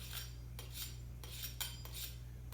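A spatula scrapes through orchid potting medium in five gritty, rasping strokes, close and soft, with a faint metallic edge and a constant low hum underneath.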